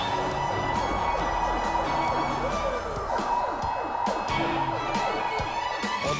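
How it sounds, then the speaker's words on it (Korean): An ambulance carrying an emergency patient sounds its siren on the road amid steady traffic noise, a moderately faint wail with scattered passing-vehicle whooshes. "경광등 돌리면서 사이렌 켠 그 구급차"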